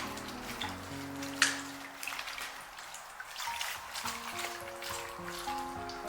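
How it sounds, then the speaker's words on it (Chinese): Lettuce leaves, a leafy green, being rinsed in clean water in a kitchen: soft continuous splashing and trickling with a few sharper drips, moderately quiet and steady throughout, no talking. "我们一定要用清水给它多清洗2遍，直到洗至水清澈为止。"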